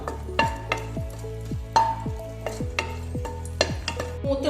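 Curd chillies fry in oil in a pan, a steady sizzle broken by regular scraping stir strokes about every half second, close and fairly loud.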